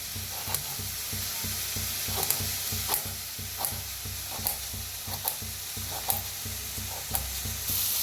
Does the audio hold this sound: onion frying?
yes